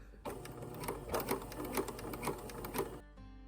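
A sewing machine runs a long stitch along a robe with a steady, close mechanical whir and a rhythmic needle clatter, stopping abruptly near the end.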